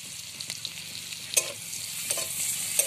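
Garlic paste fries steadily in a pan in a village kitchen, a continuous close hiss broken by a few sharp scraping clicks as it is stirred.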